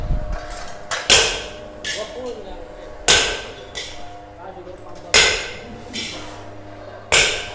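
Hammer blows ring out in a workshop where paddy threshing machines are being built. About six sharp metallic strikes land at roughly one-second intervals, loud and close, over low background clatter.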